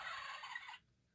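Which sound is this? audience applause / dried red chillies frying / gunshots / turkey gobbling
turkey gobbling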